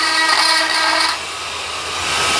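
A loud, high-pitched whine of a power drill biting into dead wild olive wood, dropping off briefly before spinning up again.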